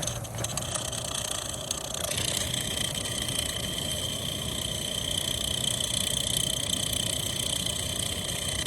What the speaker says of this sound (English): That washer is spinning.